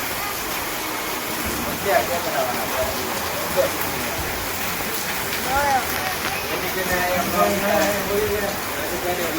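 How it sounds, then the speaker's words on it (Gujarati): Heavy rain pours steadily during a hailstorm in a Gujarati village, a dense, continuous roar, with voices talking faintly underneath. "વરસાદ તો બહુ પડે જોવો"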